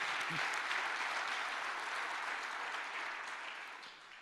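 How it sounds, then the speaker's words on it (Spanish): Church congregation applauding during a Spanish-language sermon, a dense, steady clatter of many hands that fills the whole stretch and tapers off slightly toward the end. "Dale un aplauso a Jesús por esa verdad."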